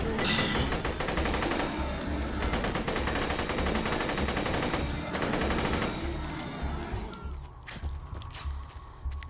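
Machine gun fire in the video game Borderlands 2, a dense, rapid, sustained stream of loud shots that runs for most of the stretch before cutting off into quieter game sound.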